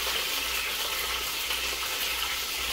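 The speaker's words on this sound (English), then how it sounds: "I'm gonna add the Congo fish also, half fry them a little bit." Fish half-frying in a pot with garlic and pepper, a steady close sizzle that holds evenly throughout with no talking.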